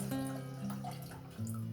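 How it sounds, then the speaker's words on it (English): Canning jars rinsed under running water, giving a quiet, steady flow with faint clinks of glass and a low tonal hum underneath. "I'm rinsing out my jars."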